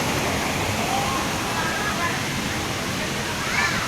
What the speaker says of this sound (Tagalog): Ganda ng tubig, oh.